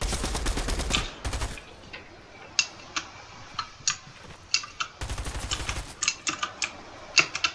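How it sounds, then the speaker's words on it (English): Gunfire in the Fortnite video game: loud broadband bursts of rapid shots near the start and again around five seconds, with sharp isolated single shots scattered between them, no talking. "Where am I getting shot from?"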